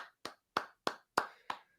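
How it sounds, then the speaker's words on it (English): Six separate handclaps from a small group of people, sharp and evenly spaced about a third of a second apart, close and alone with no talk. "Can we clap it up?"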